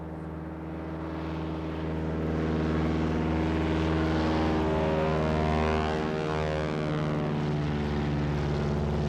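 American propeller cargo plane at a jungle airstrip in 1966 Laos, its engines droning loudly with a steady layered hum that peaks mid-clip as the pitch shifts, heard alone without voices.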